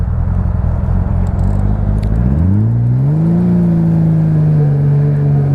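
A Honda Goldwing GL1500 motorcycle on a local ride, its engine droning loud and close, dropping low and then rising steadily in pitch as it picks up speed under wind noise, with no talking.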